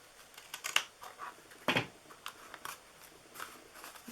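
Scissors snip and trim paper on a festive triangle gift box, a few quiet close cuts in irregular bursts with soft rustling between.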